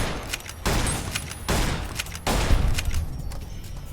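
Repeated bursts of gunfire at a rad scorpion in Fallout New Vegas, loud volleys arriving in several separate waves with brief gaps between them, no speech.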